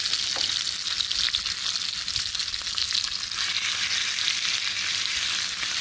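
Pork hock sears and browns in a hot pot, a loud, dense, continuous sizzle of frying fat that holds steady throughout, with faint occasional ticks and no voices.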